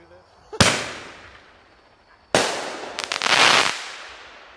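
Live firework shells launched from a rack by an electronic firing system, three sharp booming bursts: one, then a louder one, then a crackling rattling cluster, each with a long fading echo, close and loud.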